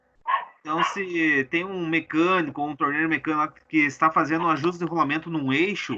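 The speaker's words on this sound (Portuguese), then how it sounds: "Alguém está com o áudio aberto e tem um cachorro latindo aí," A dog barks through someone's open microphone on an online class, a few yips and barks buried under continuous nearby talking.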